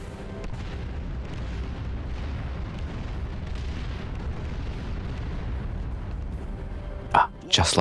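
Rumbling artillery bombardment and explosions in the Dawn of War 2 battlefield, a continuous dense low roar of distant shelling, with a couple of sharper bursts near the end.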